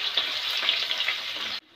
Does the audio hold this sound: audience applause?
no